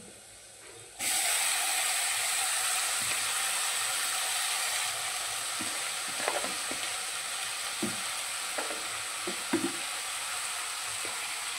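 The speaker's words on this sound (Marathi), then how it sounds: "तुम्ही बघू शकता कांदा मिरची कशी तळलेली आहे, अशी छान तळून त्यामध्ये भाजी टाकून घेऊ" Onion and green chili frying in hot oil, with amaranth greens tipped into the pan, giving a loud steady sizzle throughout, joined by a few brief scraping and clinking stirs near the end; no one speaks.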